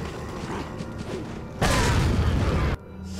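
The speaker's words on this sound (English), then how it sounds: "Let's use up a grenade, because there's a lot of dudes here." A grenade explosion in Resident Evil 4, a loud, broad roaring burst lasting about a second that stands out sharply against steady background game noise.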